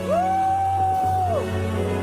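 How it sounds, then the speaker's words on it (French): A church congregation shouting for joy, one long sustained whoop rising above a loud, steady crowd roar and a low hum, lasting over a second before falling away. "Poussez des cris de joie ce matin."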